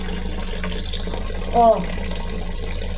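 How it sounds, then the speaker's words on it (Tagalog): Rusty, dirty tap water from a municipal supply pours in a steady close stream, with a brief spoken exclamation over it. "Ang tubig, ang dumi-dumi, kalawang."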